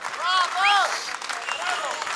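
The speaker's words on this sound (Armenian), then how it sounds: "Շնորհակալություն եւս մեկ անգամ ծափահարություններ" An audience claps in a dense, sustained burst after a singer's performance at a concert, while a voice speaks over the applause.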